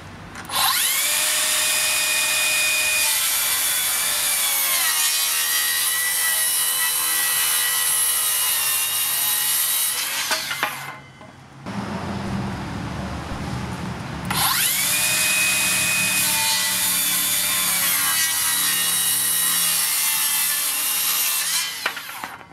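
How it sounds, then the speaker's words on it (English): A Makita 40V cordless saw rips through treated 6x2 timber in two long, loud, sustained cuts with a screaming motor whine, broken by a short stretch of rougher, lower grinding noise between them. "Rip some sopping wet treated bloody 6x2s and shit."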